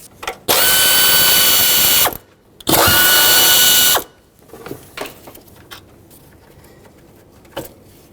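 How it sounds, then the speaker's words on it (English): A power tool whirs in two long loud bursts, removing the bolts of a solenoid on the 6.2L V8 engine of a 2011-2016 Ford F-350, followed by scattered clicks and clinks of parts being handled. "since we're here, let's unbolt this solenoid"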